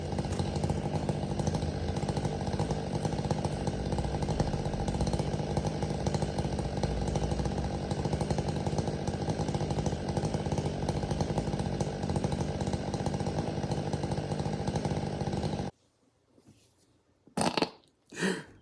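A Stihl MS500i chainsaw engine runs loud and steady for about fifteen seconds, then cuts off abruptly, leaving quiet with a couple of brief bursts.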